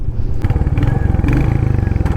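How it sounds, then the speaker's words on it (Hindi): A Royal Enfield Hunter 350 motorcycle's engine is revved up close with its stock exhaust, giving a loud, rapid low thumping pulse that rises and holds, with some mechanical clatter on top and no voices. "अगर मैं इसको रेप करता हूँ तो काफ़ी सही साउंड आती है इसमें."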